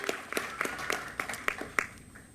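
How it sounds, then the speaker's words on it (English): Scattered applause from a small audience at a high school quiz bowl finals, sparse individual claps in an uneven rhythm, moderately distant and fairly quiet with no voices over it. "Give yourselves a round of applause"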